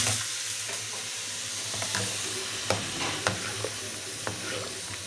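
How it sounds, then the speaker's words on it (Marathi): Mustard seeds crackling in hot oil while tempering dal, a steady close sizzle with scattered sharp pops and spatters. "वरणाला फोडणी द्यायची, तर राईची फोडणी देते."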